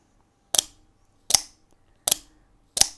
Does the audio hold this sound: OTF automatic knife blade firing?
yes